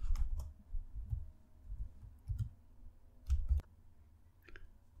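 Keys tapped on a computer keyboard while entering a terminal command on a Fedora 29 LXQt system, a handful of soft, close clicks in an irregular rhythm over a low background hum.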